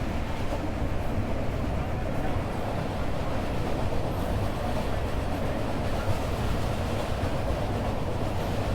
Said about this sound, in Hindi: और ये क्रॉस हो रही है ट्रेन नंबर